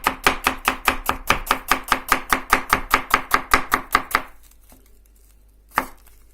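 A Yakut knife chops vegetables on a board in about twenty quick, evenly spaced close knocks, then stops, leaving near silence and one last isolated tap.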